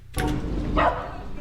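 A female dog barks twice during a dog-training demonstration at a training conference: two short, fairly close barks about half a second apart over room noise.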